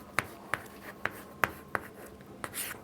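A pen writes out the area formula for a rectangle in short, crisp strokes, about seven distinct taps and scratches spaced unevenly, close and fairly quiet, with no talking.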